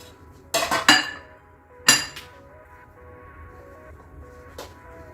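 A few sharp metallic clinks and scrapes of a utensil against a pot as halwa is moved into a ghee-greased dish, three clustered bursts early and a faint one later, with quiet between.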